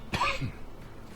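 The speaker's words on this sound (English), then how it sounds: "my coughing this morning" A man coughs in a short, harsh burst of two or three close hacks, fairly near and then trailing off into quiet room tone.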